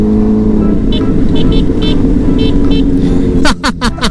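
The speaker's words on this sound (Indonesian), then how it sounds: "Klakson gue jijik banget aja" Several short honks from a nearby car horn, some in quick succession, over a steady engine and road rumble.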